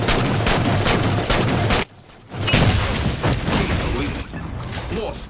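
Gunfire in Halo 4 during an Infinity Slayer match on the Solace map, a dense burst of rapid shots and impacts that cuts out briefly before more firing resumes, loud and close.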